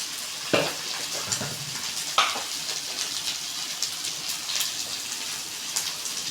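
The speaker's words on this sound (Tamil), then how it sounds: "கரண்டி வச்சு இது மாதிரி நல்லா கிளறி விட்டுக்கோங்க." Elephant yam fry with chili powder being stirred with a ladle: continuous crackling sizzle with a couple of sharp scraping knocks of the ladle against the pan, close and fairly quiet, no talking.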